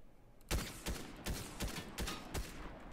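Gunfire in the Fortnite video game, a series of six rhythmic, punchy shots about a third of a second apart, fairly loud and close, with no talk over them.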